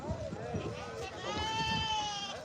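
Several goats bleat over one another amid a busy crowd at the Dhanaula goat market, with talking voices mixed in throughout.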